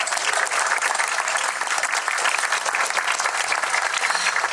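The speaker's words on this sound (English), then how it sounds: "Everyone give Hayden a round of applause." An audience applauds at an outdoor city band concert, a dense, steady wash of clapping from many hands that stays loud and even throughout.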